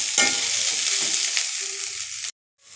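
Thattai kai (flat beans) sautéing for a quick poriyal, with a steady broadband sizzle and stirring texture in the pan that cuts off abruptly near the end.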